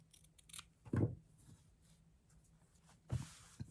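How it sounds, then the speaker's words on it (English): Scissors trim excess fabric on a Christmas angel ornament, with two distinct close snips about two seconds apart over faint background hiss. "Now I'll just trim that excess fabric."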